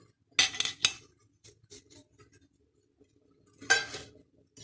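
A spoon clinks against a metal pot while stirring turmeric ginger tea sweetened with jaggery, two quick metallic strikes followed by soft scraping, then another clink burst near the end.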